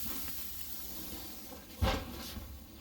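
Steaks seasoned with butter, rosemary and garlic sizzle on a grill, a steady low hiss and crackle with a brief louder pop near the end.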